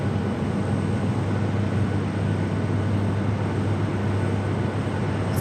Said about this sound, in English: That's that JetBlue flight coming in from JFK.